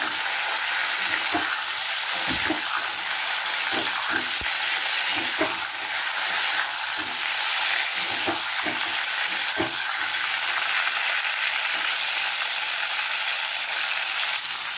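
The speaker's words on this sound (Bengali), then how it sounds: "পটলগুলোকে একটু ভেজে নেব।" Pointed gourd (potol) slices fry in oil with a constant, loud sizzle. Occasional knocks and scrapes of a utensil in the pan break through the hiss.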